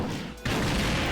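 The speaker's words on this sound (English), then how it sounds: "Explosion. Guess we should start getting blasty." An explosion in the video game Touhou Genso Wanderer Reloaded bursts as a sudden loud blast, then fills the rest of the moment with a sustained roar of noise.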